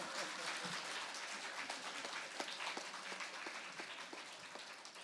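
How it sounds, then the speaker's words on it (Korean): Congregation applause during a Korean church sermon, steady dense clapping from a crowd at moderate distance, running continuously with a few sharper claps standing out. "박수."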